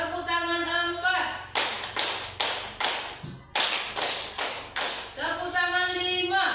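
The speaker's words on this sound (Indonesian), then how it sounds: "Tepuk tangan 4." Hands clap in unison across a classroom, about eight crisp claps split into two bursts with a short gap, and a voice speaks just before and after.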